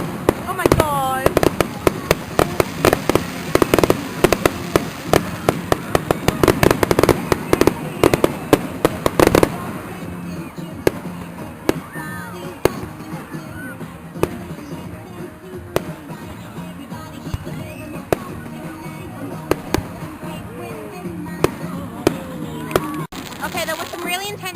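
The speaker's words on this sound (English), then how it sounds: "We've got some really cool fireworks here, that's like intense." Outdoor summer fireworks burst in rapid, loud volleys of cracks and bangs during the first half, then thin out to scattered distant pops, with voices talking over parts of the display.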